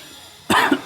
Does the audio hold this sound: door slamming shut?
no